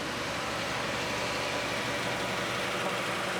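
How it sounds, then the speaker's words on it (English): A donor car's engine runs at a steady idle before jump-starting a dead car, a continuous even rumble with no voices. "Let's get in here and start the donor car."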